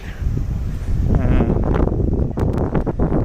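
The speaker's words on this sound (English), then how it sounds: "And yes, it is windy" Steady low wind buffeting a phone microphone on an evening walk along the Sen River in Sengawa, Tokyo, a constant rumbling roar with faint rustling, running the whole time without any talk.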